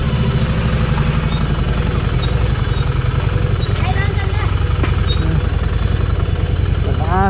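Harley-Davidson Street 750 motorcycle with a six-speed gearbox, ridden around Lakeside in Pokhara; its engine runs steadily and loudly throughout, a continuous low rumble with some clatter, while someone talks over it.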